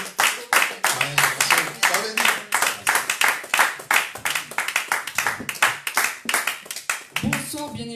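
A church congregation claps in steady, loud rhythmic bursts of acclamation, the hand claps dense and close throughout, with singing or voices mixed in underneath.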